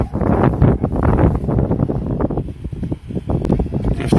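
Strong gusts of wind buffet the microphone in uneven, rumbling bursts, loud and close, with no voices, outdoors near a wildfire outside Koila, Kozani, Greece.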